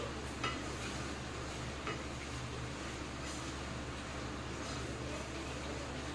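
Spoonfuls of coriander powder and spices stirred into mutton curry in a pan, faint scraping and light clinks of a spoon over a low steady hum, quiet and close, without speech.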